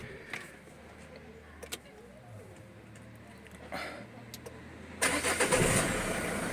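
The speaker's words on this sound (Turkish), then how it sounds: "Bir daha çalıştıralım pompamızı şimdi." A repaired power steering pump from a Renault Kangoo runs with a low steady hum beneath faint workshop noise, then rises into a louder whirring burst in the last second and a half.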